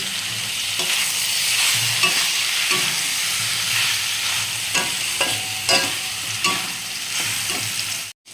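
Snake gourd sizzles steadily in a hot pan, with occasional clinks and scrapes of stirring over the continuous frying hiss, ending in a brief cut.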